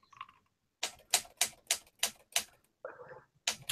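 A typewriter clacks close by in quick bursts of sharp strikes, with a short pause and a softer mechanical rattle between them.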